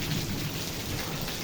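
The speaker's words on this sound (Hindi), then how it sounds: "और बारिश हो रही है जनाब" Heavy rain pours steadily at night in Malakwal during a storm that also brings snowfall, a dense continuous hiss with a low rumble underneath and no voices.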